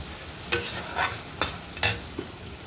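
Okra curry with mustard paste being stirred in a pan, a spoon scraping and stirring in four or five distinct close strokes over a soft, steady frying sizzle.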